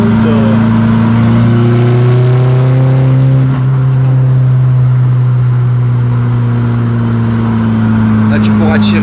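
A stage 3 tuned 1.9 litre diesel car engine revs loudly and close by, its deep steady drone rising and settling, while people talk over it.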